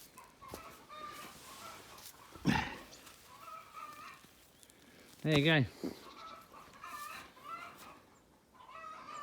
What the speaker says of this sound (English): And the chickens, they've been liking that.